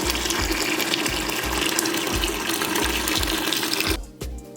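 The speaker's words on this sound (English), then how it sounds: "so we have our bucket of water. I'm just gonna add more." Water pouring steadily into a bucket, a loud continuous gushing splash with a low rhythmic pulsing underneath, cutting off abruptly near the end and leaving a quieter trickle.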